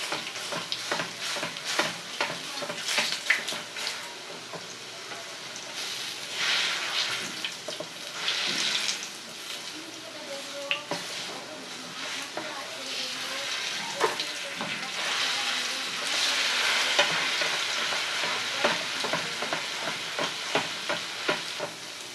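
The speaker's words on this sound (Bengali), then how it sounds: "একদম মুচমুচে করে ভেজে নিতে হবে।" Potato slices frying until crisp in hot oil make a soft, continuous sizzle dotted with quick crackles and stirring sounds, with no talk.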